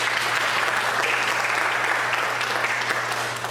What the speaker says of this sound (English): we're going to clap for her too